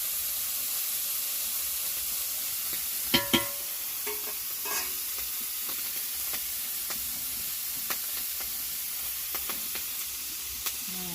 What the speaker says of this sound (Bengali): তেল দিয়ে দিয়েছি, একটু ভেজে নেই, হালকা হালকা ভেজে নেই।